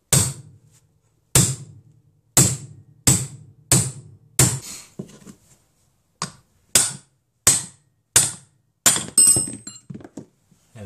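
A 30mm socket is hammered to knock a bearing out of a motorcycle, giving about a dozen sharp metallic blows at uneven intervals, loud and close with brief ringing decay and no talk.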